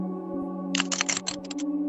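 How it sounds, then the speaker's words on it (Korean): Rapid, irregular computer keyboard typing clatters in a quick burst of keystrokes, close and crisp over a steady low electrical hum, with no voices. "이런 소리, 키보드를 막 치는 소리가 들린 거예요"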